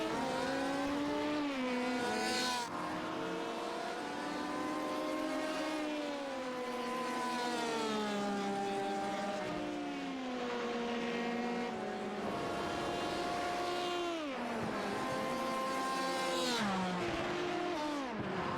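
Sports prototype race cars in the ABN International Sports Car Championship in Italy, engines whining up and down through the gears as they pass on track, layered and continuous at moderate distance.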